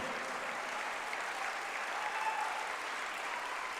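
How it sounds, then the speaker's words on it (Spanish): A church congregation applauds during a sermon, a steady wash of clapping heard from some distance at moderate loudness. "Dele ese aplauso al Señor."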